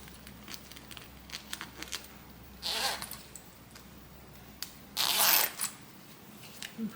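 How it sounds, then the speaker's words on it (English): Zipper pulls slide along a sewn-in zipper on a bag being stitched, two quick rasping zips standing out over a quiet room with faint handling sounds between them. "so I'm going to move my zipper pulls over."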